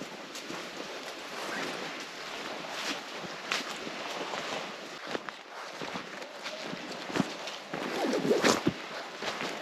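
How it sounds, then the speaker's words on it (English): Strong, steady wind on Minnesota's North Shore roars and buffets the microphone throughout, with a few louder gusts and faint rustling, no voices. "It's very windy out there."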